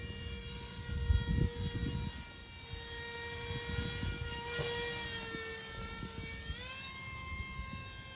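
A budget ready-to-fly RC paraglider flies overhead on its propeller motor, a steady thin electric whine that shifts pitch as it coasts and turns, moderately distant with faint wind buffeting.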